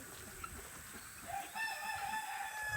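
Chickens at a farm animal sanctuary cluck faintly in the background, a few short calls rising over steady low noise.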